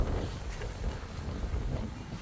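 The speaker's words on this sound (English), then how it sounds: "So windy, oh my goodness." Steady, strong wind buffeting the microphone outdoors at the state capitol in Pierre, South Dakota, a continuous low roar with gusty surges and no voices.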